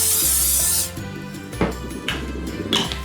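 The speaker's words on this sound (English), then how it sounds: "we're gonna give it a little bit of a spray just so the cornbread doesn't stick" Canola oil sprayed into a casserole dish: one close, loud hissing burst lasting under a second, followed by quieter handling noise and light rubbing.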